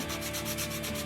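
A sanding block rubs over a toy in Toy Tinker Simulator, giving a steady, loud rasping scrape in even back-and-forth strokes with no talking.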